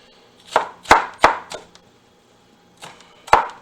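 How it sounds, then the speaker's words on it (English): Knife mincing ingredients on a cutting board for calaches, a few quick, close chops in a loose rhythm, a short pause, then two more cuts. "we're going to kind of mince everything up, nice and tight"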